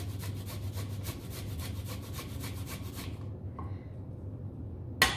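Fresh ginger rubbed up and down a microplane gives a rhythmic series of short rasping strokes for about three seconds. Quiet follows, then a single sharp tap at the end.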